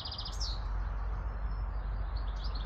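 Birds chirp outdoors near a farm, a cluster of high tweets at the start and fainter calls later, over a steady low rumble of wind.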